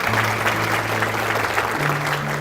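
Applause from an audience greeting a school district's Board of Trustees at a gathering for new teachers, a steady dense clapping that fills the whole stretch with no talking over it.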